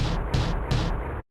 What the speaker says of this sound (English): I just time stretched it to be a lot faster, and I kept the pitch the same